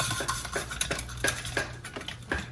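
Raw potatoes are sliced very thin with a knife, producing a quick, regular series of crisp cuts and taps against a cutting board, close by and fairly loud, with no talk.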